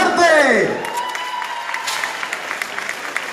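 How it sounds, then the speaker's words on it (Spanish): A crowd at a mayoral campaign closing rally applauds loudly and steadily, with cheers and shouts mixed into the dense clapping, while a voice rises and trails off over the start. "vamos a recibirlo con ese aplauso que se escuche de verdad fuerte"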